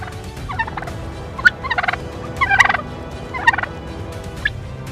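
Wild turkeys gobble outdoors in several short bursts of rattling calls, some closer and louder than others, over steady background noise with no talking.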